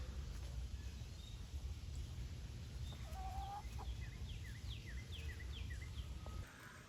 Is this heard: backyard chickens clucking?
yes